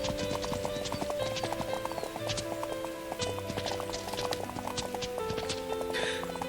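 Horse hooves clip-clop at a gallop in a horse-riding video game, a quick steady rhythm up close with a brief whinny and game music.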